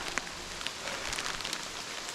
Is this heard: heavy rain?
yes